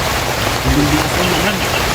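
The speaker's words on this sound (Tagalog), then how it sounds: "Abutan talaga tayo ng ulan bro." Steady rain hissing on a surface, a continuous wash of noise with faint low murmurs underneath.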